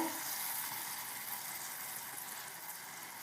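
Oil in a pan hisses with a steady, close frying sizzle that fades slightly over its length, with no talking.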